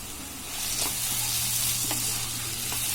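Chopped onion and cut beans sautéing in a pan, a continuous close sizzle with occasional scrapes of stirring and no talking.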